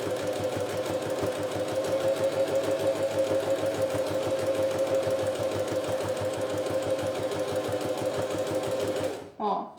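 A sewing machine stitches a synthetic leather wallet at a steady, fast mechanical chatter close by, carrying on for several seconds before stopping abruptly near the end, with faint talk in the background.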